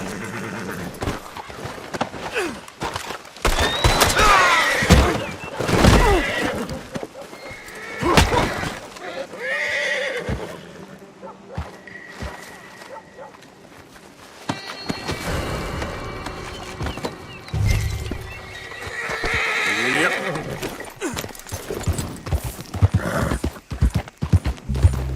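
Horse hooves clip-clop and a horse neighs in the Red Dead Redemption 2 video game, mixed with game sounds and bursts of talk from characters.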